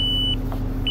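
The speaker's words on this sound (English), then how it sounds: "it's still beeping on the dead side of the line" A voltage detector on a three-phase power line gives a high, steady electronic beep twice, one tone cut off early and another starting near the end, over a low humming background.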